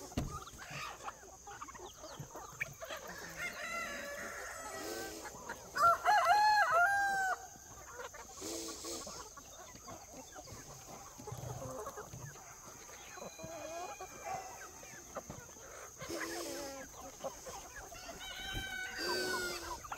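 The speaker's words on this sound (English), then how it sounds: "They're both roosters, it looks like." Two roosters with black wattles crow repeatedly in the early morning, the calls rising and falling at moderate distance, with soft clucking and farmyard rustling between them.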